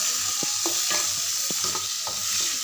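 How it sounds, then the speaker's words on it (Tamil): Curry leaves and green chilies fry in hot oil for a Kerala-style egg curry, a loud steady sizzle filling the whole stretch, broken by soft, regularly spaced stirring taps close by, with no voices. "கறிவேப்பிலையும் பச்சை மிளகாயும் போடலாம்."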